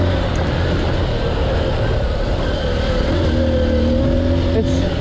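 A Honda XR150L motorcycle engine hums steadily while riding off-road over bumpy ground, a small-displacement single that stays smooth. Its even, continuous drone sits close to the microphone with slight shifts in pitch.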